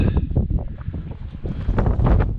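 Wind gusting across open ground at a remote campsite, a rough, low rumbling buffet against the microphone that surges and eases in uneven pulses, fairly close and loud, with no voices.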